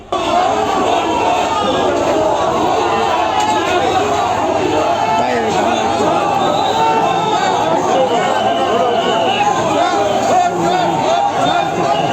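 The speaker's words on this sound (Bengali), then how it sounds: "সকাল দশটা বিশ মিনিটে সুজনকে আদালতে নিয়ে আসা হলে লোকজন ভুয়া ভুয়া বোটচোর বোটচোর স্লোগান দিতে থাকেন" A crowd gathered at a court chants angry slogans, calling a suspect being brought in a fake and a vote thief. The shouting is dense, loud and unbroken for the whole stretch, with many voices overlapping.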